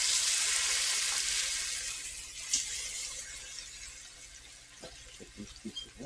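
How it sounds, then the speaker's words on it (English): Beef pieces go into a hot pan and sizzle with a soft, steady hiss that fades a little. A few quiet clinks and taps of the pieces being placed follow near the end. "That's a nice little sizzle right there."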